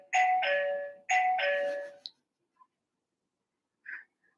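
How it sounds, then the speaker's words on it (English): A doorbell chimes twice in a clear two-tone ding-dong, each ring close and loud with a short decay, followed by a few faint clicks and near silence. "I can't believe they figured out I had a doorbell and I don't have a door."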